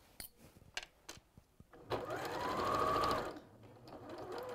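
A sewing machine stitches fabric through bulky sections, a few scattered handling clicks and knocks before a close, steady mechanical whir runs for about a second and a half and then stops.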